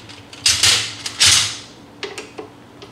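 A large 8 mm Allen bolt is being tightened, with two loud scraping, creaking strains followed by a few lighter metallic clicks, close up and without speech.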